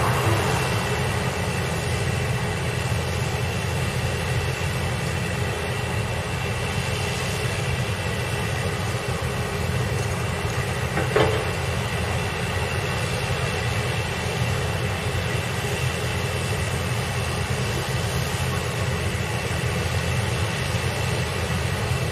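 Steady, continuous droning of an ATR 72-500 turboprop airliner's engines at Leite Lopes Airport in Ribeirão Preto, even and unbroken, heard from some distance with a faint windy hiss.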